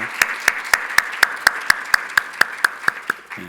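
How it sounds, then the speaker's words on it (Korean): A church congregation claps in a steady, even rhythm, with crisp claps evenly spaced about four per second and held at a constant, moderately loud level. "박수로 한번 축복하겠습니다"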